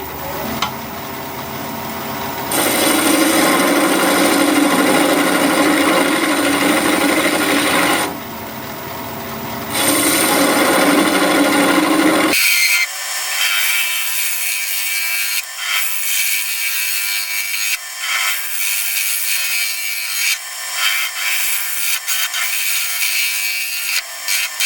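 Juniper wood vase turning on a lathe as it is shortened and thinned: a loud, steady scraping and rubbing of tool on spinning wood, broken by two short pauses, with a thinner, quieter cutting hiss through the last half.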